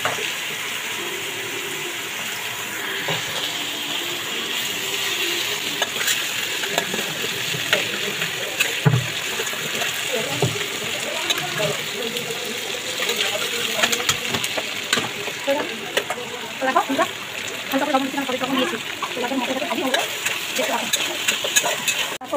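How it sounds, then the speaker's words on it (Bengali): Ginger, garlic, onion and green chilli frying in oil in a pan, a steady close sizzle with occasional stirring clatter running throughout. "ভালো করে মশলাটা লাল লাল হয়ে গেলে ভাজা হলে তেল ছেড়ে দিলে"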